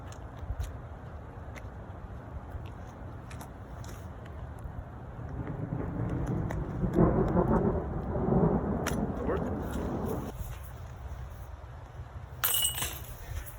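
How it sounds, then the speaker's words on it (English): Light rain falls steadily outdoors on a disc golf course, a broad, soft hiss with low wind rumble that swells in the middle and later eases off. "it's still raining a little bit"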